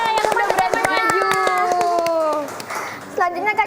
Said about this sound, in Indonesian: Tepuk tangan dulu buat temannya yang udah berani maju.